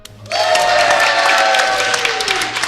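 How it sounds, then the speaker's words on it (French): After a brief quiet moment, an audience at a podcast festival breaks into steady, full applause that stays loud and even to the end, with a few raised voices mixed in. "Un grand applaudissement pour eux"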